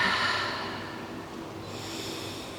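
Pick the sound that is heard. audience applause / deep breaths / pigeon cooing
deep breaths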